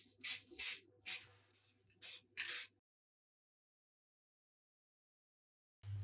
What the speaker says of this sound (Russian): Для этого взял серый грунт в виде спрея и решил сперва обработать места соединений клинка с гардой